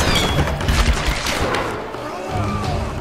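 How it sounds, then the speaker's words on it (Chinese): Gunfire in the action video game Tomb Raider, dense bursts and booms filling the whole stretch, loud and continuous with a player shouting over it. "开枪！ 再开枪啊！"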